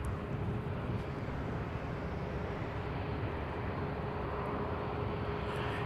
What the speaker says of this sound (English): we have an Alaska flight to Ontario on the runway right now.